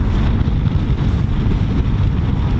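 Kymco Dink S 150 scooter engine running, a steady low drone with some wind-like rumble, close and continuous, no talk.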